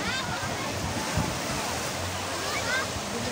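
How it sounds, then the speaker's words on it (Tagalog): Strong sea waves churn and wash in a constant broad rushing roar at the shore, with people talking faintly beneath the surf. "Lakas ng alon."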